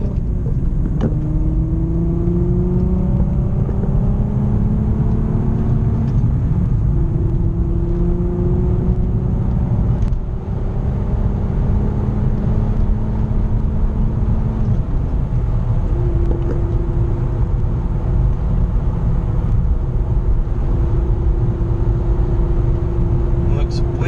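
Steady, loud car cabin drone at freeway speed around 70 mph, with engine and tire hum and rising harmonic tones as the car accelerates toward sixth gear, a continuous whir throughout.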